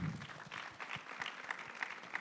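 An audience at the SATVETSA Conference 2025 gives a brief round of applause, faint and somewhat distant, with scattered claps fading out over a couple of seconds.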